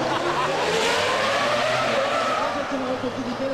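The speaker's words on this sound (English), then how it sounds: "You've got all these racing cars going, and then you've got like a normal car on this thing." Race cars and a normal road car roaring around a track, with tyres screeching in a long skid over loud, continuous engine noise, close and dense, with voices mixed in.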